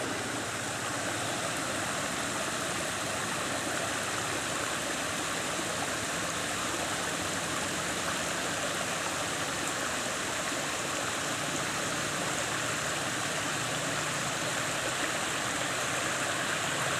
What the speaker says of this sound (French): Une petite cascade là.